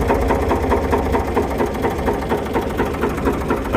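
An old dumper's engine idles alone, a close, loud, steady rapid chugging with an even mechanical knock throughout.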